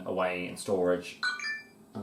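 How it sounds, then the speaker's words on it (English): A WhatsApp notification on a phone chimes as a short series of bright tonal beeps during a pause in nearby talk, with a person speaking before and after it. "excuse my phone there on WhatsApp"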